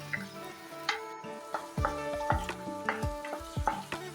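Ginger garlic paste stirred into sautéed onions in a pan for pav bhaji, with a soft steady sizzle and repeated scraping stirs at a close, moderate level.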